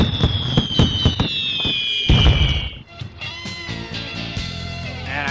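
Fireworks bursting in a pinball arcade game: a rapid string of sharp pops and crackles over bright electronic tones, loud and close, followed by a quieter stretch of chimes and jingles.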